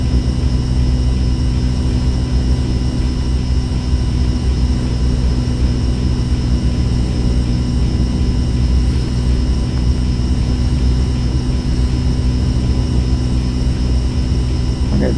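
Heavy airliner on approach at about 100 knots in the X-Plane 11 flight simulator, its engines giving a loud, steady drone that holds unbroken throughout with no other sounds.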